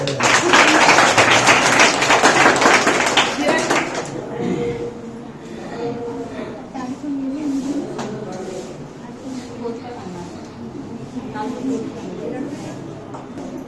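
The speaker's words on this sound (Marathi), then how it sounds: "टाळ्या वाजवा." A group of students at a Bhagavad Gita class in Trimbakeshwar claps hands together in a loud, dense burst lasting a few seconds, followed by a teacher speaking.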